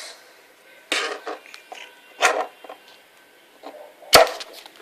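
A Victorinox Officer Suisse Swiss Army knife with a cap lifter and screwdriver, its tools opened and closed in three sharp, close clicks and snaps, separated by quiet handling noise.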